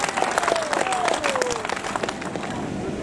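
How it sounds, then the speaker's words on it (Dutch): Crowd applause at a women's cycling team presentation for Canyon SRAM Racing at the Simac Ladies Tour, dense steady clapping with cheering and a whistle-like tone over it, a crowd voice mixed in. "Dames en heren, uw applaus voor Canyon Swam Racing."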